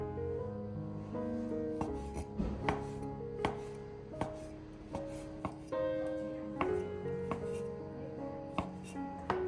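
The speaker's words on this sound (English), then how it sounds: "Remove the stems from the shiitake mushrooms and slice them thinly" A knife slicing shiitake mushrooms on a cutting board, a close series of crisp, irregular chopping taps with sharp clicks over about ten seconds, no speech.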